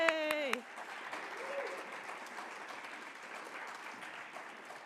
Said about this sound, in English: Let's give it a warm clap.